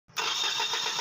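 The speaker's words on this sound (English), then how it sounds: "the second I loosen this fuel pipe nut, it fires right up" A Toyota Camry engine catches and fires up as its fuel pipe nut is loosened, a brief crank giving way to a steady, loud idle close by.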